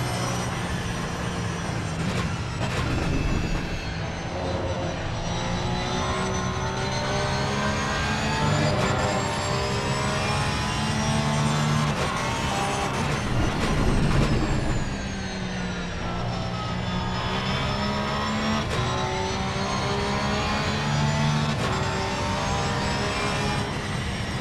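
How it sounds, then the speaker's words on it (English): Porsche GT3 race car engine in Assetto Corsa Competizione at Watkins Glen, a loud steady howl held close for the whole stretch, dipping briefly in pitch midway before climbing again. "The Porsche obviously sounds rather nice"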